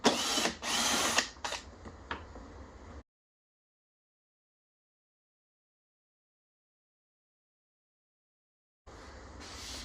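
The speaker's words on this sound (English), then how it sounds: "I just have my drill with an adapter and a 10mm socket." A cordless drill fitted with an adapter and 10mm socket spins off splash-shield bolts under a Nissan Frontier 4.0L V6, giving short whirring bursts up close, then a long silence before a low steady hum returns.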